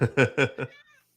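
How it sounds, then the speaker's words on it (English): A cat meows four times in quick succession, close and clear, and the last call trails off into quiet. "That's my cat."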